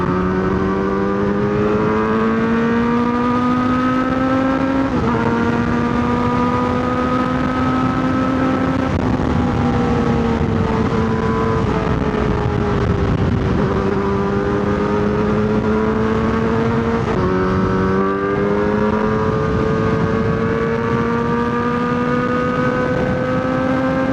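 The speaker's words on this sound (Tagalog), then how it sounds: "Sarap magmotor." A Kawasaki Z900RS motorcycle cruises steadily on a road, its engine droning continuously with brief shifts in pitch as the rider changes gear, loud and close alongside rushing wind noise.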